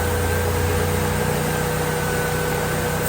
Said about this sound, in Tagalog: Hindi na nanginig yung makina niya nung binuhusan ko ng tubig.